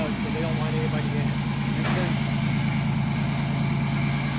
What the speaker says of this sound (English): The engine sounds smooth in it.